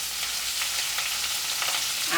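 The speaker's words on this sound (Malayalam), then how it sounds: "ഇനി നമ്മുടെ സവാള, ഇഞ്ചി, വെളുത്തുള്ളി എല്ലാം കൂടെ എടുത്തിട്ട് നല്ല രീതിയിലൊന്ന് മൂപ്പിച്ചെടുക്കാം." Sliced onion, ginger and garlic fry in hot oil in a pan, a close, continuous, even sizzle with no talking.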